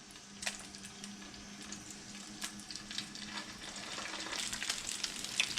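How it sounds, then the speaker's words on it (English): Patties made from canned mackerel sizzle steadily in a frying pan, a soft crackling hiss with scattered pops, quiet and close with no talking. "Nice little sizzle there."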